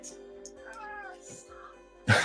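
An unhappy cat meows at a door in a couple of faint, drawn-out wails, followed by a sudden loud noise at the end.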